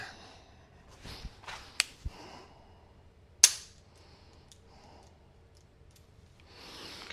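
One-handed pistol dry fire: a few sharp isolated trigger clicks spaced apart, one notably crisp snap midway, with faint handling rustle between them and no talk.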